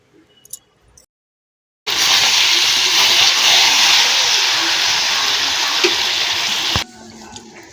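Water poured into a pot of chicken curry cooking over a stove, a loud steady gush lasting about five seconds and starting and stopping abruptly, with faint clatter before and after.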